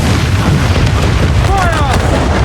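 Ship cannons fire in naval combat in the video game Assassin's Creed Black Flag: loud, continuous booming blasts close by that run together, with a short whistling tone partway through.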